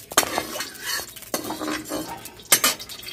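Oil is spread around a kadhai with a metal utensil, making a few sharp scraping clanks at irregular intervals with softer rubbing strokes between them, close and fairly loud.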